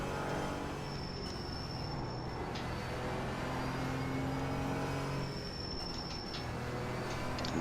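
GT4 race car in iRacing, its engine note droning steadily throughout with sustained tonal bands, a brief lift around the middle before the revs pick back up.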